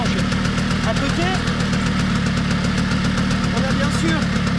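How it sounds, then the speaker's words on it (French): The engine of a Manurhin MR/SM75 scooter runs freely with the clutch engaged and the scooter standing still, a steady mid-pitched idle with fast even pulsing that holds at constant loudness throughout. "on a le moteur qui tourne librement. On peut donc accélérer"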